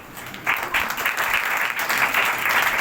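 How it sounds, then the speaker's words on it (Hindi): A church congregation applauds together, steady continuous clapping swelling up after the first half-second and holding loud and full to the end, with no talk over it. "भाई मैरक के लिए जरा तालियां बजाएं।"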